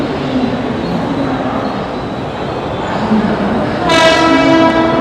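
A train at Churchgate railway station in Mumbai rumbles steadily and loudly nearby, and a long horn blast sounds in the last second, with no one talking.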